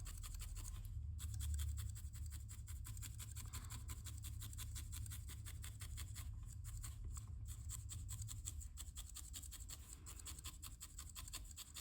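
Felting needles jab repeatedly into wool as a small hedgehog is needle felted, making a quick, steady stream of faint scratchy pokes close by, with no talking.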